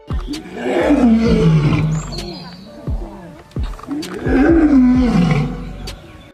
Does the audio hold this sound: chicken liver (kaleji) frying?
no